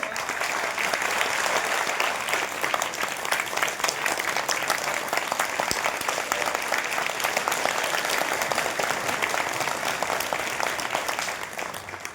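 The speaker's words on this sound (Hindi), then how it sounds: "एक बार जोरदार तालियों से।" Sustained, loud audience applause at a Hindi-language gathering in Delhi, a dense steady wash of many hands clapping for about twelve seconds without a break and fading only slightly at the end.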